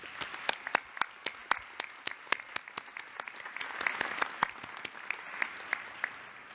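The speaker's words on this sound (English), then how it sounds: "Class of 2018, please join me in applauding these invaluable supporters who surround you today." Graduating law school class at a convocation ceremony applauding their families and supporters, a sustained crowd applause with sharp individual claps standing out near the microphone, building slightly then holding steady.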